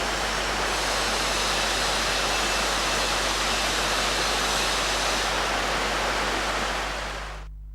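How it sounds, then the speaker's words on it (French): Shielded metal arc welding with a coated electrode on sheet steel: a loud, steady, close crackling hiss runs unbroken for about seven seconds, then fades and cuts out abruptly at the end, with no voices. "C'est de ce côté que nous commençons la soudure."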